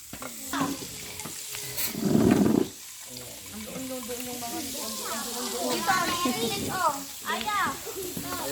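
Samgyupsal pork belly sizzles and fries on a grill in a home kitchen, with a loud burst of frying around the middle. Children's voices and chatter continue over and after it.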